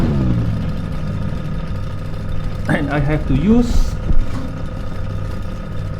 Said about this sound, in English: right now I will drive a car around Landmark Park